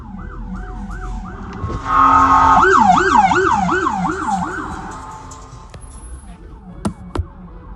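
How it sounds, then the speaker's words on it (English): A loud police car siren on a Denver, Colorado street sweeps rapidly up and down in repeated wails, with a second yelping tone layered in, then fades as traffic noise continues. "Did you hear how the siren sounds?"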